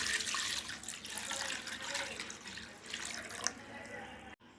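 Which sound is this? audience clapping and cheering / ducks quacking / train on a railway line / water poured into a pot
water poured into a pot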